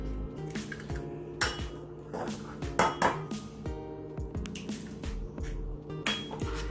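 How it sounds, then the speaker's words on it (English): Three eggs whisked in a bowl while baking a butterscotch pecan pie, a quiet close series of irregular clinks and taps of utensil against the bowl. "I like to mix my eggs up"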